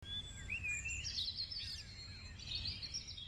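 Birds chirp and trill in quick, high twittering phrases, fairly close, over a low background rumble, with no voices.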